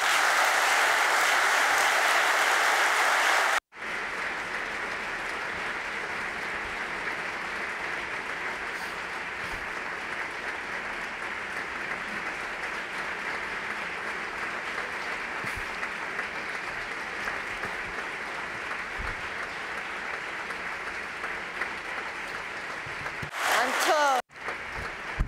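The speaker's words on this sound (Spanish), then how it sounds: "escuchando este aplauso cálido, esta ovación" Warm applause and ovation from an audience at the Círculo de Bellas Artes welcoming Siri Hustvedt to the stage at a tribute to Paul Auster; dense, sustained clapping after a brief opening of other sound, cut off near the end.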